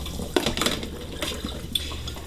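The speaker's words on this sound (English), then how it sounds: "We're going to take this, and we're going to drain them." Brined steak fries are drained in a kitchen sink, with water splashing and running in irregular bursts and a few hard clinks of a pot or strainer, close and fairly quiet, without talk.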